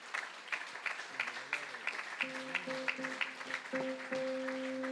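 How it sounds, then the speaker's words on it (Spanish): A church congregation at a convention service applauds in rhythmic, fairly faint clapping while held organ-like tones and voices come in partway through. "Dele ese aplauso fuerte al Rey."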